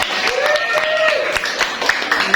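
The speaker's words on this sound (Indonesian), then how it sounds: "Oke, tepuk tangannya." Brief applause from an audience at a school sociology teaching session in Indonesia, scattered claps mixed with a speaking voice throughout.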